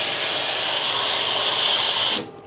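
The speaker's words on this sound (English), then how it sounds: "right now I'm going to steam the milk" The steam wand of a Data S espresso machine hisses loudly and steadily as it steams milk, a continuous close rush of steam that cuts off abruptly near the end.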